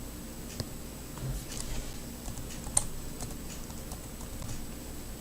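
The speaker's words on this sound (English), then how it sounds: "Let's type it up here." Typing on a computer keyboard to enter a search, with soft, irregular key clicks over a steady low background hum and one sharper tap partway through.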